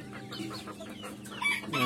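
Golden and silver Sebright bantam chickens cluck in short, soft, rapid notes close by, ending in a slightly louder burst.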